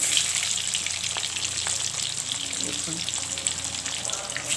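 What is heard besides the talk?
frying in a pan while cooking chicken biryani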